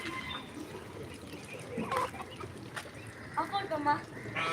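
Chickens on a home farm, including a hen about to lay, give soft, scattered clucks against a low background hum, with a few sharper calls toward the end.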